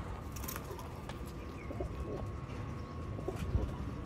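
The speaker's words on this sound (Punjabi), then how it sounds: "ਇਹ ਸਾਰੇ ਰਿਜ਼ਲਟਡ ਕਬੂਤਰ ਜੀ।" Several pigeons coo in low, soft, repeated calls, kept for sale as breeding pairs, with faint chirps and background noise throughout.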